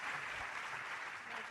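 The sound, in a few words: audience applause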